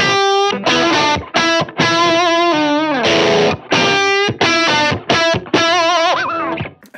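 Boosted, overdriven electric guitar on a Strat plays a loud string of sustained distorted chords and bent notes, each phrase separated by brief gaps, close and with no voices.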